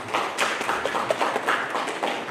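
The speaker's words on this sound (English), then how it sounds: "A clap for director," A crowd at a county report-card launch event claps for the director, a scattered and moderately loud round of applause with individual claps standing out.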